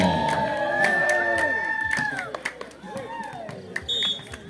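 A crowd cheers at a BVC Cup beach volleyball match, loud and steady, with shrill whistle-like tones sliding over the din before it breaks into scattered bursts.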